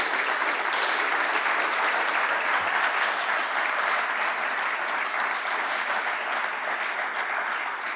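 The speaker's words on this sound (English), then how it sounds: "Please give them all a round of applause." Steady applause from an audience at an airline service announcement event, an even wash of many hands clapping that holds at a constant level throughout with no voices.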